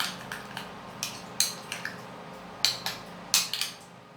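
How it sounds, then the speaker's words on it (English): A utensil stirring an okra seed mixture in a bowl, giving a string of light clinks and scrapes in an uneven rhythm, close and fairly quiet. "I'm going to stir it to mix everything all up"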